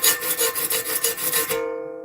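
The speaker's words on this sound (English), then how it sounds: "this little live video is going to end when I'm done sharpening all 22 teeth" A hand file sharpens the teeth of a saw blade, giving quick rhythmic rasping strokes close by, then a metallic ring that lingers and fades.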